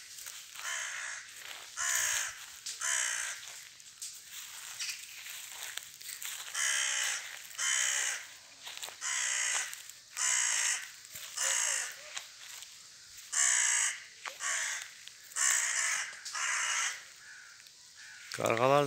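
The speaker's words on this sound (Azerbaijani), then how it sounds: "Qarğalar da bir yandan tut ağacının qanadlarına qonub, meyvələri tökürlər" Crows caw loudly and repeatedly from mulberry trees, the harsh calls arriving in uneven bursts close by with short pauses between them.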